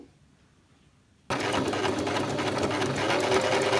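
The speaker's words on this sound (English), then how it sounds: "we're just going to continue to sew on through very gently" A sewing machine fitted with a rolled hem foot stitches a rolled hem in fabric, starting after about a second of near silence and then running as a steady, close, loud mechanical whir to the end.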